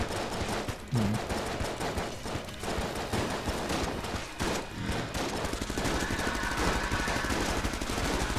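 Rapid bursts of video game gunfire from a bullet-hell shooter fight against a boss, dense and continuous over a busy background of game music and effects, with no pauses in the shooting.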